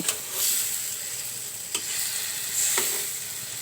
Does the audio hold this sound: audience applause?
no